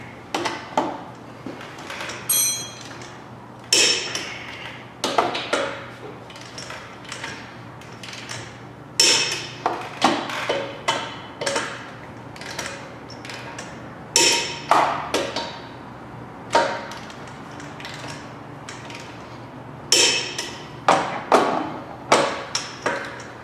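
Torque wrench tightening bolts on the rear brakes of a Dodge Grand Caravan: a series of sharp metallic taps, clicks and thuds, close and irregular, with short gaps between bursts.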